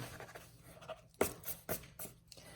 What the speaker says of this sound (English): I'm then going to erase my dots.